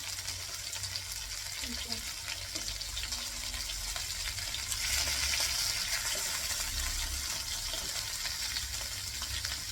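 Fish frying in a pan, a constant close hiss of hot oil that swells slightly midway, with faint background sounds underneath.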